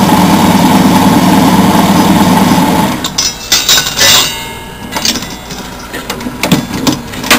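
An ETC embroidery auto bobbin winder runs with a steady loud mechanical whir, then stops. Sharp clicks and clattering taps follow as the full bobbin is cut and ejected and a new one drops into place.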